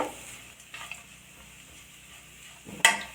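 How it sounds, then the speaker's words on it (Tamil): Cabbage and capsicum sautéed with spice powder in a pan, giving a soft, low sizzle with a few light scrapes and a sharp clink of a utensil near the end. "இப்போ இந்த பொடியை சேர்த்து ஒரு தடவை வதக்கி கொடுத்துட்டு"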